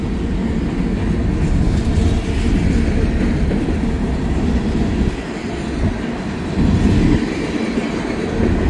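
Train rolling along railway tracks, a continuous rumbling wash of wheel and carriage noise close by for several seconds, with no voices over it.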